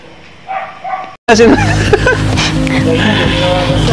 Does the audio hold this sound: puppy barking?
yes